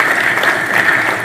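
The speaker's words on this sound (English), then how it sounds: "you can clap" Audience applause at a talk on manufacturing in Kenya, a steady dense clatter of many hands clapping, loud and close, holding evenly for the whole moment.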